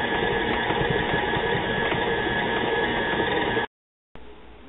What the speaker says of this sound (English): put it in your mixer, and turn it on